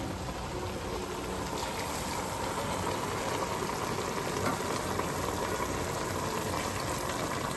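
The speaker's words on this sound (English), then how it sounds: "I have water boiling here." Steady rolling boil of water for a zucchini leaf stew, a dense continuous bubbling hiss that stays even throughout with no voices.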